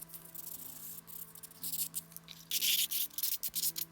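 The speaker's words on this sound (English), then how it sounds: "Again, using 600 grit sandpaper. I don't get real aggressive with this. I'm more like buffing it." Miniature wooden blanket chest being lightly buffed with 600 grit sandpaper, giving soft, close, intermittent rubbing and scratching strokes that come in short bursts over a faint steady hum.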